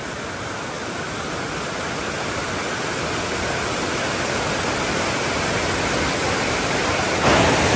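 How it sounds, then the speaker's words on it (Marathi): Steady, roaring rush of fast-flowing water at Khandala Dam, loud and unbroken, like a torrent pouring through a dam. "आणि किती वेगानं पाणी येत आहे बघा"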